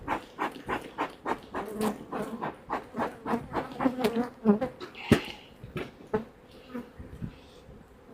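Honeybees buzz around an open hive during a beekeeper's first spring inspection, a dense, close, wavering drone with sharp swells as individual bees pass near the microphone, mixed with rustling handling noises.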